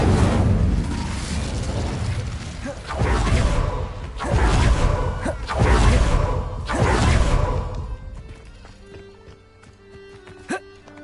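Incendio fire spell cast in Hogwarts Legacy, with several loud whooshing bursts of flame in quick succession that then die away to quieter background game sounds.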